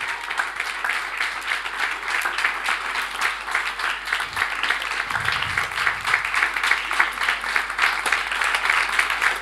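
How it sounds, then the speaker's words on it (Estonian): Continuing applause from a seminar audience, a moderate, even patter of many hands clapping that carries on steadily without pause. "Ja, aplaus jätkub."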